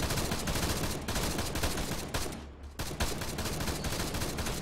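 Gunfire in a military training exercise game, a dense run of sharp shots and bursts rattling almost continuously at fairly close range, with a brief lull midway before the firing resumes.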